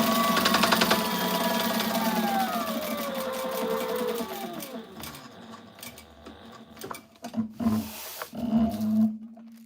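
An industrial sewing machine sews a Velcro closure on tactical gear, its motor whirring loudly and then winding down in falling tones, followed by scattered knocks and short bursts as the work shifts.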